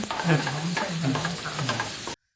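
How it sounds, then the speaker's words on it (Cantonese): Stir-frying in a wok in a Sydney eatery, with a loud, steady sizzle and rhythmic scraping strokes of a spatula against the metal, continuous and close for about two seconds before cutting to silence. "聽住啲鑊，係咁"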